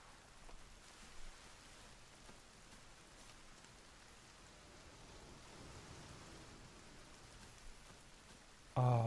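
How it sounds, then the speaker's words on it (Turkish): Steady rain in The Forest video game, a dense, even hiss of falling drops that continues alone throughout, ending with a short, louder burst of another sound. "Ölümcül yağmurda kaldık."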